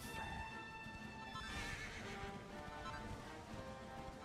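A horse whinnies and gallops in the video game Dragon Quest 11, with a sharp neigh followed by steady clip-clop hoofbeats, fairly quiet and alone with no talk.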